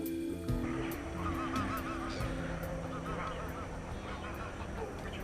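A flock of barnacle geese honks across the Deben estuary in late summer, many overlapping yelping calls at moderate distance over a steady outdoor background, with a voice talking beneath them.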